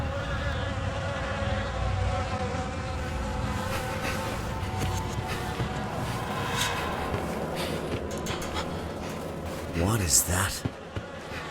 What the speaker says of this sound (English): Insects.